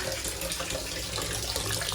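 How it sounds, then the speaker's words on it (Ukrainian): Tap water gushes steadily into a filling bathtub, a close, constant rushing hiss with no voices over it. "Піду гляну, до речі, як там вода. Набирається водичка."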